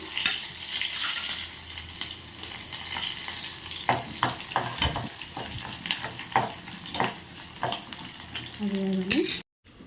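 Chillies, curry leaves and onion frying in hot oil in a pan, a steady close sizzle broken by repeated scraping stirs of a spoon against the pan, alone without talk.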